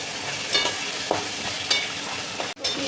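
Sea crabs fry with ginger paste in a pan, a constant close sizzle with periodic stirring scrapes and a brief drop in sound near the end, with no voices.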